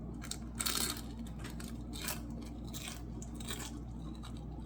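Crunchy bites into air-fried turon, a banana lumpia, crackling in a few short bursts over a steady low background hum, with no talking.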